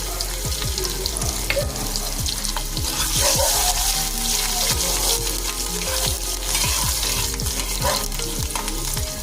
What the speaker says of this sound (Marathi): त्यानंतर कांदा टाकून घेऊया तेलामध्ये कांदा चांगला लालसर होईपर्यंत आपण परतून घ्यायचा